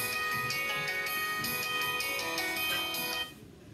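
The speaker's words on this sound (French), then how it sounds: "désolé c'était mon téléphone." A mobile phone rings with a steady, bright electronic ringtone whose repeating tones play continuously for about three seconds before cutting off abruptly, with no one speaking.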